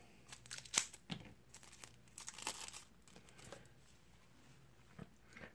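Spawn game cards are unwrapped from their packaging, with quiet crinkling and tearing of plastic wrap in short irregular bursts, close and soft.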